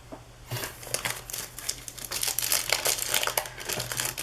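A wrapper on a 1990 Hoops basketball card pack is torn open, a close, crisp burst of plastic crinkling and tearing that starts abruptly and keeps rustling in uneven bursts.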